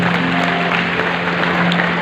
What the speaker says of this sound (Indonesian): Tepuk tangan yang paling meriah buat Tuhan.